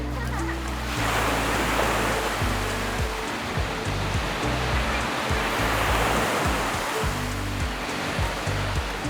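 Steady rolling surf on a beach in Lagos on Portugal's Algarve coast, a broad continuous wash of breaking waves close by, loud and unbroken with no voices.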